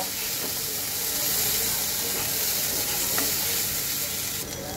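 A Bengali fish curry is sautéed in a pan on a low flame, giving a steady, close, full sizzle with a hissing steam layer and faint stirring, with no talk over it.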